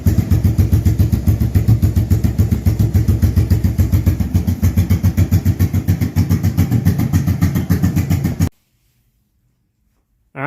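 A 2002 Yamaha V-Star 1100 motorcycle, recently revived with a carburettor still needing work, idles close by with a steady, loud, rapid thumping. The engine then cuts off abruptly into silence.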